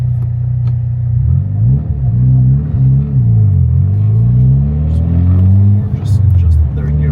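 A Mitsubishi EVO X fitted with a large new turbo roars loud and close on a dyno, its engine pitch climbing and dipping repeatedly through revving pulls as a steady heavy rumble runs throughout.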